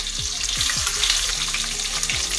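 Sliced onions frying in a pan for mutton gravy curry, a steady bright sizzle throughout with a few low knocks of a spoon against the pan.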